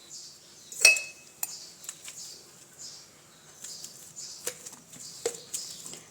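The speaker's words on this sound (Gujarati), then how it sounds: "તો બટેકાને સરસ રીતે આપણે આવી રીતના સૂંદો કરી લેવાનો છે।" Boiled potatoes being mashed for a Gujarati paratha filling, with sparse, quiet clinks and scrapes of a utensil against a dish, irregularly spaced, one sharper knock near the start.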